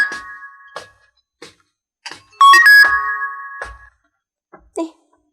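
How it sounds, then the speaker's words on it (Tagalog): A cellphone ringtone sounds in a home, a short melodic electronic tune of repeated tones, loud and close, with brief bits of someone talking around it. "Iso mo ti pa nag-ring ti cellphone ko."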